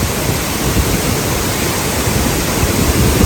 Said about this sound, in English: looks like we got a little waterfall coming down the stairs here